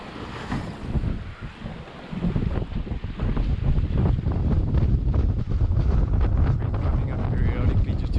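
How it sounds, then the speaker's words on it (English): Strong wind of about 20 knots roaring across a sport-fishing boat on the open ocean, a loud continuous rushing buffet with wave wash beneath, close to the microphone throughout. "Still got about 20 knots of wind blowing"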